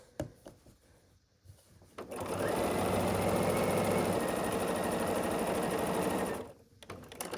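A sewing machine stitches across a patchwork baby quilt in one steady, close run of about four seconds, starting and stopping cleanly amid quiet handling noises.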